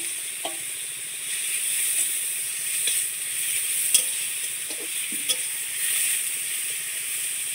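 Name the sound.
grated kohlrabi frying in hot oil with nigella and asafoetida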